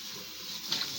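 Tap water runs steadily into a sink while bok choy is rinsed, a close, continuous splashing hiss with a couple of brief louder splashes.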